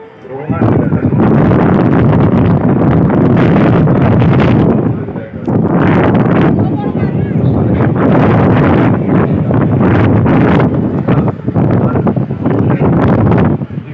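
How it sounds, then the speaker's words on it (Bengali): Strong seashore wind buffets the microphone in loud, continuous roaring gusts, dropping briefly at a couple of points before surging again, with a voice talking underneath. "এত বাতাস কি বলবো, বাতাসে কথা বলা।"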